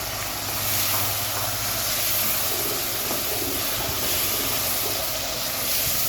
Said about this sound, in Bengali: একটু ভেজে নেব এটাকে একটু ভেজে নেব